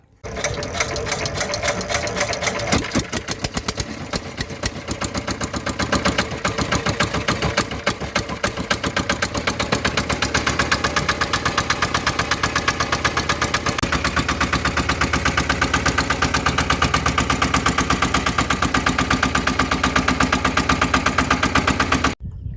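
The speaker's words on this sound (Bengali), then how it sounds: "আমরা কিন্তু আমাদের বোট চালিয়ে বেশ কিছু দূর উপরের দিকে উঠে আসলাম" A small fishing boat engine chugs steadily on a Sundarbans river, a fast, even mechanical knocking that stays loud and close throughout.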